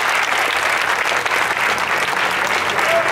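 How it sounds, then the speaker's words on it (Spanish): A church congregation applauding during a sermon, a loud, dense and continuous wash of clapping from many hands, sustained evenly to the end. "Dale el aplauso a Jesucristo"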